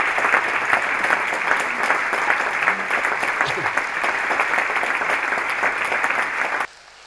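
An audience gives sustained, dense clapping for performers after a gavotte dance, steady for about seven seconds before stopping abruptly.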